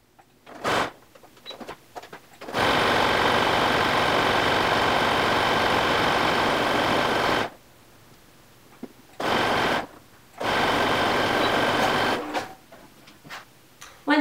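A sewing machine zigzag-stitching fleece for a snap cowl runs in loud close bursts, one long steady stretch followed by shorter starts and stops separated by silence, with no talking.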